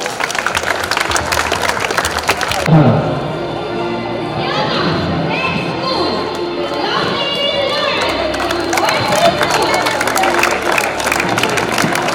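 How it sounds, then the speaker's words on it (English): Applause for a school team from DPS Secunderabad at a college fest, steady crowd clapping for a few seconds that gives way to lively crowd noise and chatter, with voices heard throughout. "Let's have a round of applause for DPS Secunderabad."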